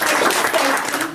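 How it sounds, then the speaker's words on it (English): Hand clapping from an audience, a brief dense patter lasting about a second. "I'm going to clap."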